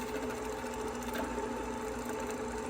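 A Brother PQ1500SL semi-industrial sewing machine runs steadily at high speed, a loud continuous mechanical whir with constant stitching rhythm and no pauses, close up and alone.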